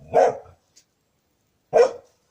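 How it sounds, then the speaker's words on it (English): Dogs barking at a house with a garden, two loud close single barks spaced over a second apart with quiet between them. "I don't know why the dogs will keep barking"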